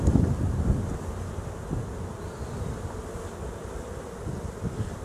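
Bees buzzing around a hive frame during an inspection, showing eggs near the edges; a steady, close insect drone with low rustling and wind noise, loudest at the start and continuing throughout.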